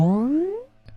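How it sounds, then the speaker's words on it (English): In Ableton's Shifter device, an LFO modulates the pitch of a tone, producing a single boing-like upward sweep that glides and fades within a second, followed by a faint click. "You also have the option here to actually modulate the pitch with an LFO."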